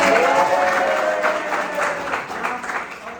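Audience applause after a group presentation on social and cultural studies, a steady wash of many hands clapping for about three seconds with faint voices underneath.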